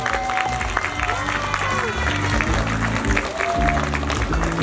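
Steady applause from a crowd fills the room, dense and continuous, with a voice speaking over a sound system and some music underneath, as dignitaries are introduced at a festival ceremony in Ansan.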